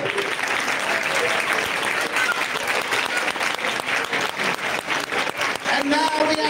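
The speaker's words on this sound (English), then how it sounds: "a round of applause for Dubai" Crowd applause at a Hanukkah gathering, loud and continuous clapping from many hands filling the whole stretch, with some voices mixed in near the end.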